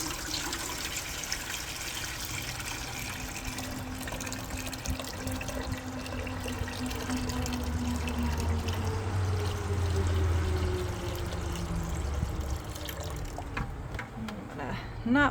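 Natural wool dye liquid is poured from a container, a soft continuous trickle and gurgle running steadily at close range, with faint low background rumble and a short clatter near the end.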